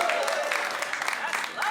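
An audience breaks into a brief burst of applause over a 20-year wedding anniversary, clapping blended with a voice and crowd murmur.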